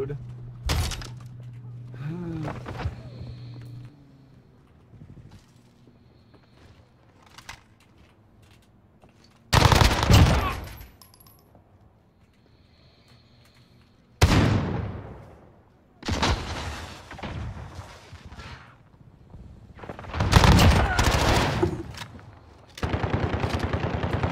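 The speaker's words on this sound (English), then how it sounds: "I'm point blank hip firing him in the head" Close, loud gunfire from a gun fired from the hip at point-blank range in a shooter video game, arriving in several separate bursts of shots with quieter stretches and a person talking in between.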